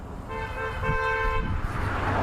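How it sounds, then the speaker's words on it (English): A car horn honks twice in quick succession, a short toot then a longer blare, over faint traffic noise nearby. "Stop getting people to honk."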